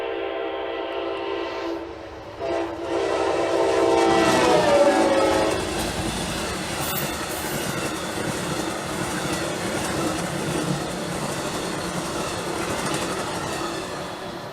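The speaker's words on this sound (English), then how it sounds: "Here's 48 with Amtrak 143 trailing third." Amtrak train 48, with locomotive 143 trailing third, blasts its horn with a falling pitch as it approaches, then rumbles past loudly with steady rail clatter and wheel noise.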